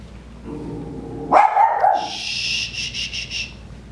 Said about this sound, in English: My dogs are wanting to bark because there's visitors.